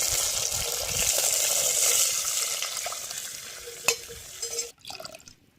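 Tomato juice poured into a hot pan for rasam gives a soft, steady sizzle and bubbling at moderate volume, fading out near the end with a few light clinks and no talk.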